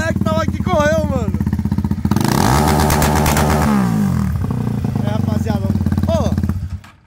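A 160 motorcycle revving hard while riding a wheelie, its engine note rising and falling in a loud, close roar as excited voices talk and shout over it.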